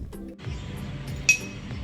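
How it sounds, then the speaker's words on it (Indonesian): One bright clink rings out as a spoon taps a glass, a clear short ping fading over quiet room noise. "ketuklah sendok pada gelas secara bergantian"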